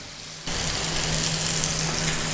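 Pork loin steaks hit a hot pan and burst into a loud, steady sizzle after a brief quieter moment, crackling on close and continuous without talk.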